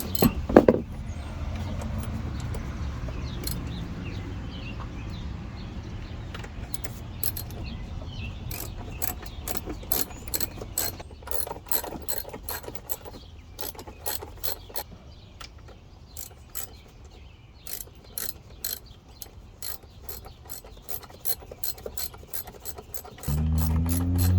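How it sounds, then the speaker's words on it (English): A ratchet tightens bolts on a Mercury outboard tilt trim unit. Close, sharp clicking comes in repeated bursts of quick strokes with short pauses, running throughout without speech. "So now we got our bolts in. We're going to tighten them up."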